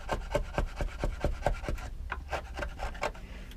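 Sandpaper rubbing soft Scandinavian pine on a guitar build, close and quiet: quick back-and-forth scratchy strokes in a steady rhythm, about a dozen passes, with no voices.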